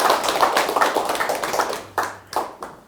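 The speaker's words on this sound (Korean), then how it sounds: "박수 한번 주시려면 화끈하게 주셔." An audience at a finance history lecture claps together in a dense burst that thins out, ending with a few separate, louder hand claps close by.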